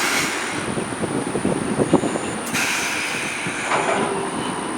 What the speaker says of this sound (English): that right there is the sound of the trim going back to its original position